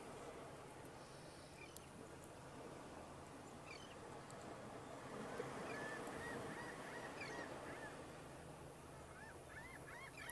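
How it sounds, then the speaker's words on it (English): Birds call at a distance on a beach, with chirps and trills coming through a steady wash of surf and wind. "The birds in the background are so pretty."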